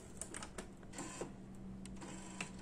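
A Canon MP250 inkjet printer runs through a print job with a steady mechanical whir and repeated short clicks and ticks as the paper feeds, heard close up and fairly quietly.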